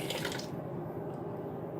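Water runs briefly from a tap as a makeup brush is wetted at a sink, a short splashing burst that fades into quiet room hiss.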